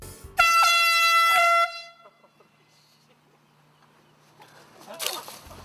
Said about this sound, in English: that was a video called the golf air horn